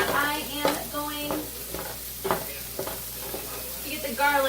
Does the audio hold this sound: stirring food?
yes